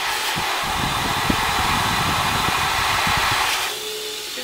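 An automatic hand dryer in a Japanese restroom blows with a loud, close, steady roar. It drops to a softer whir near the end.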